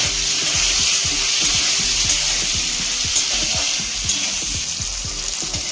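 Okra sizzles steadily in hot oil in a wok, close and loud, while a spatula scrapes and knocks against the pan in quick, uneven strokes throughout.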